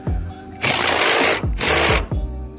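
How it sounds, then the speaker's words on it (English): Power tool driving the seat bolts of a 2016 Nissan Altima driver seat, two short loud whirring bursts between ratcheting ticks and clicks, close up. "Move the seat back, bolt these down"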